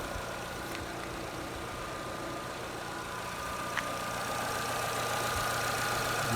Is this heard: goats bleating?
no